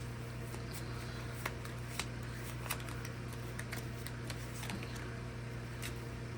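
Quick crisp clicks and snaps repeat irregularly over a steady low hum, like a deck of cards being riffled and handled up close.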